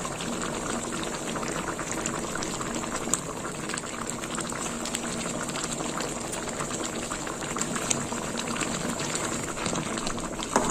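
Lentil dal boils in a pot, a continuous close bubbling and burbling with small pops scattered through it, steady in level and free of talk.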